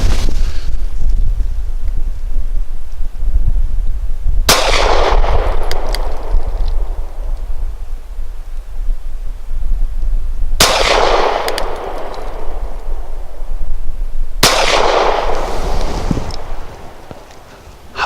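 Keltec PF-9 pistol firing subsonic rounds at a target outdoors: three sharp, loud shots spaced several seconds apart, each with a decaying tail, over steady wind noise on the microphone.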